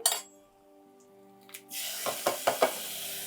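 A burst of sizzling as liquid hits a hot pan, followed by a few clinks of a utensil against metal and a steady hiss.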